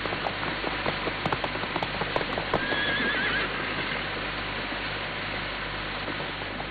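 A horse whinnies once mid-clip amid a steady run of clip-clop hoofbeats, with rain-like patter and a busy outdoor bed filling the background; no voices.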